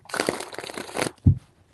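Tarot cards shuffled by hand in a rough, crinkly riffle lasting about a second, followed by a short soft thump as the deck is tapped together, close and alone.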